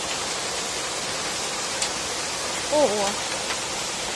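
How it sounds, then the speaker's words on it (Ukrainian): Hail patters on a window ledge in Kiev during a heavy downpour, a dense steady hiss of rain and scattered hits. A person makes a brief exclamation near the end. "Слышно, по карнизу град бьет."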